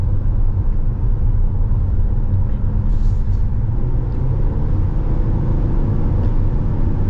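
Inside a 2026 Ram ProMaster 3500 cargo van with a 9-speed transmission, a steady low rumble of the smooth powertrain and road noise fills the cabin, constant and moderately loud.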